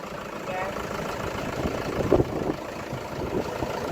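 A Lovol 504 tractor engine idles with a low, steady rumble, with a brief louder clatter midway and a faint voice under the noise.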